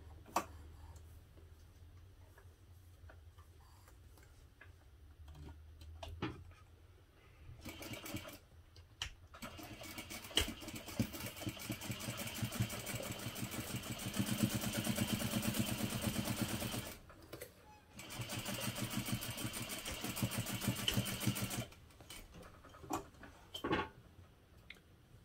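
A sewing machine stitches a half-inch seam on a fabric hip pouch, its needle ticking in steady rapid bursts with short pauses between runs, close and fairly quiet with no talking.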